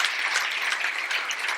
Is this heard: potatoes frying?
no